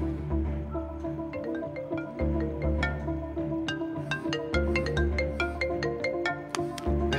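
A mobile phone plays a melodic ringtone continuously, a bright repeating tune of electronic notes, fairly close and steady throughout.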